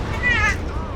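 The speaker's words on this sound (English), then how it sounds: "Cat really going at it." Cat meowing in a Company of Heroes 3 match, a drawn-out rising and falling wail with clear harmonics lasting about half a second over steady battle noise.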